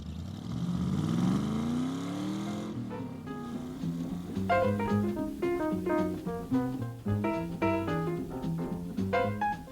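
A car pulls away, its engine revving with rising pitch for a few seconds before fading out, then orchestral music takes over.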